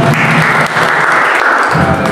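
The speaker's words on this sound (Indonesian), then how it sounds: "Sekali lagi boleh berikan tepuk tangan bagi Tuhan saudara." Applause from a church congregation at a worship service held in a Jakarta apartment, dense steady clapping filling the whole stretch, loud and close with a brief dip midway.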